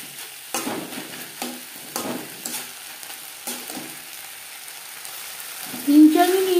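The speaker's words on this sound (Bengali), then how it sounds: "সাথে পেঁয়াজ কলি বেশ ভালো করে মিক্স করে দেব" Spring onion stalks with red chilli powder and spices sizzle in a pan under repeated spatula strokes that come in steady, spaced pulses, with a louder burst of frying near the end.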